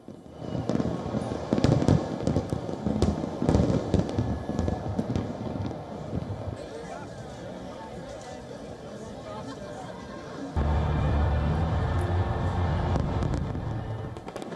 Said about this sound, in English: gathered to watch the 12-minute-long fireworks show